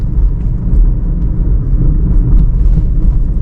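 A car engine runs steadily in third gear, a continuous low rumble held close and fairly loud with no pauses.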